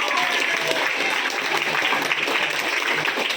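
A school audience of students applauds together at a personality development seminar, a dense, steady wash of clapping hands that stays loud and even from start to finish.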